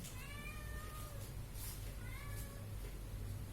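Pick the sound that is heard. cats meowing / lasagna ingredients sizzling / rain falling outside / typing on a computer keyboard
cats meowing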